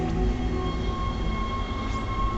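Tram aboard the Ishimura starship in the Dead Space video game, a loud continuous rumble of rail transport with steady mechanical hum and tonal whine, running without pause and with no talk.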